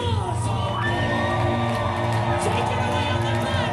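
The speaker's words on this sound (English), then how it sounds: "Give them a huge round of applause" An audience cheers, whoops and claps loudly and continuously for the performers, a dense, sustained wall of crowd noise with no speech over it.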